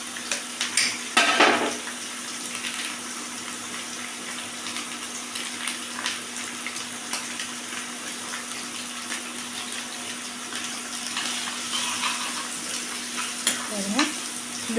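Egg being fried and stirred with onions in a pan, giving a steady sizzle with scraping and clinking of a utensil against the pan, close and continuous, no talking.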